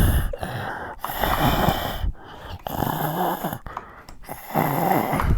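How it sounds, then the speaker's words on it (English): Heavy, noisy breathing close to the mic during a live dovetail woodworking class, coming in long rasping breaths with short pauses between them, loud and alone without speech. "And now you get to hear my beautiful breathing."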